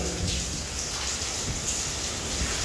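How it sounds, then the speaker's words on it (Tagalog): Steady rain patters and hisses on a surface nearby, an even wash of drops with no voices. "Kaya na tumutulo siya kasi umuulan."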